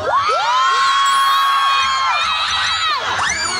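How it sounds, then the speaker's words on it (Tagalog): A loud crowd at an outdoor show with Vice Ganda at Marikina Riverbanks cheers and shouts continuously, with high whoops and yells layered over a steady roar. "Magpalakpakan na may kasamang hiyaw lahat"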